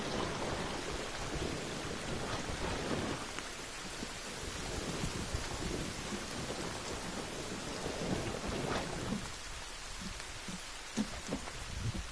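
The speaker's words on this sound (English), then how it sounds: "It's raining." Steady rain pattering on surfaces outdoors near a spot with fallen logs, with low rolling thunder rumbling through the dense wash of drops, sustained and fairly loud, with no voices.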